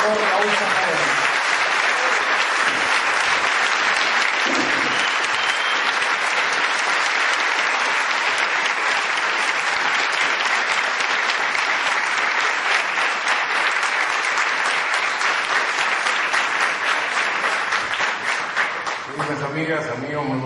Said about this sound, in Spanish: pido un fuerte aplauso para el doctor Raúl Zaffaroni